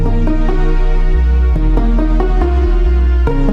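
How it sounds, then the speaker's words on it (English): A deep, prominent bass line joins piano and strings in a song chorus, low notes shifting every second or so beneath plucked melodic hits. "Then obviously you have to add the bass."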